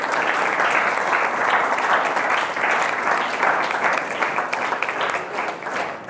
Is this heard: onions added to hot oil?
no